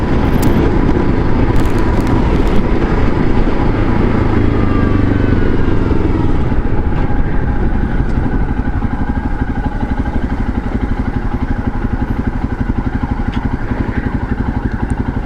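A Royal Enfield Himalayan adventure motorcycle rides along steadily, its single-cylinder engine throbbing loud and close amid wind rush, with a low gear change partway through.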